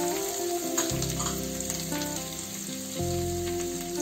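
Grated ginger frying in a pan of samak rice pulao, a constant loud sizzle with a faint continuous hum; no distinct stirring strokes stand out.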